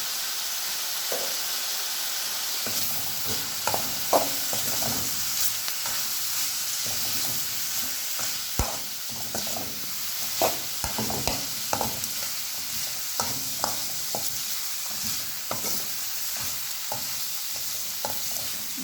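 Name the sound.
stirring pepper spice mixture in a pan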